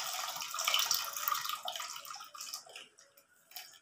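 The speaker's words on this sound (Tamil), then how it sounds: "தேவையான அளவு புளி ஊற்றிக்கலாம்." Tamarind water poured into a pot of fish curry, a steady trickling, splashy liquid stream at close range that tapers off toward the end, with no talk.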